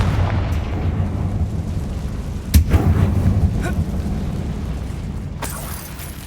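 A Confringo fire spell bursts inside a tomb in Hogwarts Legacy, a sharp blast at mid-clip over a steady low rumble, with a fainter pop near the end.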